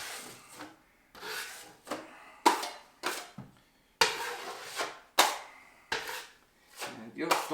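A drywall knife spreads joint compound over a seam in a run of close, scraping strokes, each one rising and then trailing off, repeated about a dozen times with short gaps between them.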